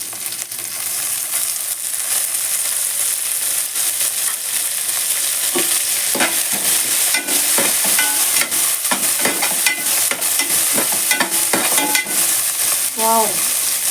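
Curry leaves and mint frying and being stirred in a pan for eggplant dum biryani, a loud steady sizzle with scraping spoon strokes and sharp crackling pops throughout, no talking.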